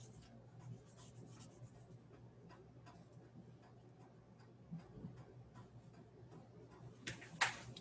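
Crayon or pencil colouring in a picture on paper makes soft, faint, repetitive scratchy strokes in a quiet room, ending with a slightly louder rub.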